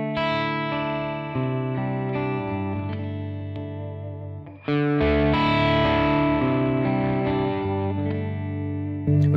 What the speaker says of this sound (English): the Spark Booster, the CC Electronic Spark Booster